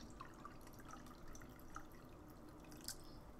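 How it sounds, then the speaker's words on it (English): Coffee poured from a small coffee maker, a faint trickle and light drips into a cup nearby, without talk. "I'm gonna pour me some coffee really quick."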